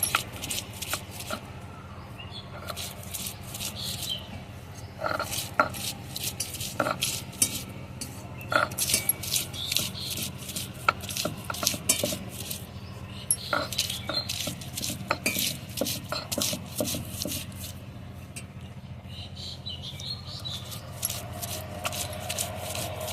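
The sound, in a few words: onion being ground into paste on a grinding stone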